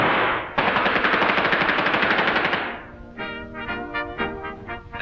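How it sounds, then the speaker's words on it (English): Cartoon automatic-weapon fire, a loud, fast burst of rattling shots followed by a sparser series of ringing, metallic reports. "with your automatic weapons, you have greater firepower than a whole platoon of Napoleon's finest"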